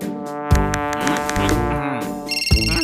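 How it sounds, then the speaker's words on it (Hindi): A phone rings in a children's cartoon comedy, with a short electronic ringtone of bright repeated tones near the end after a stretch of animated voices and music. "तू निकोला का फोन लगा"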